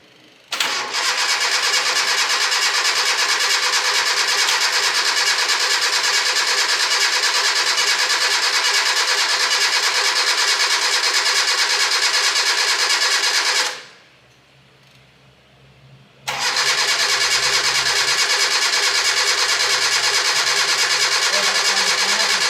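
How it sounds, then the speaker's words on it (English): A Proton Satria engine cranked over with its coil packs unplugged, the starter whirring loud and steady for about thirteen seconds without catching, then a short pause before cranking resumes just as loudly. "Let's crank her over and see what happens, huh?"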